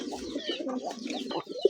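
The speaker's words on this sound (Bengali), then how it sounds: "আর এটা হলো মাদি কবুতর মাশাআল্লাহ খুব সুন্দর সুস্থ সবল রানিং মাস্টার পেয়ার" Indian Nazrana Kaldam pigeons, a big-sized pair including a female, cooing in soft, throaty, rolling bursts close by, a short run of low burbling coos with a couple of brief sharper notes at the end.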